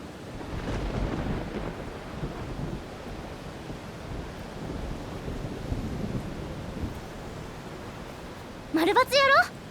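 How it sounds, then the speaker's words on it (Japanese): Wind-driven rain and thunder in an anime golf episode, a broad rushing roar with low rumbling swells, fading slightly before a voice speaks at the end. "風で雨が横殴りだから ね。"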